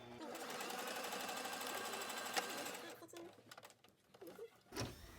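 A sewing machine runs steadily while stitching a fabric face mask, a fast even mechanical whir for about three seconds before it stops, followed by quieter handling noises and a brief final burst.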